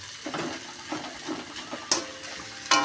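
Fish head frying in oil with a soft, uneven sizzle, broken by scraping stirs and two sharp clinks near the end.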